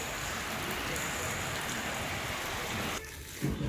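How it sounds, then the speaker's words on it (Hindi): Heavy rain pours steadily in a loud, hissing wash, then briefly drops away near the end before a soft thump. "From past half an hour बारिश ज़ोर से चालू हो गई है।"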